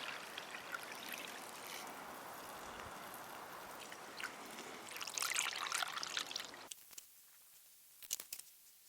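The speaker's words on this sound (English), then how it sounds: "We're gonna run a gallon of water through the coffee filter" A gallon of well water pours and trickles through a coffee filter, a steady close splashing stream that stops abruptly near the end, leaving a few last drips.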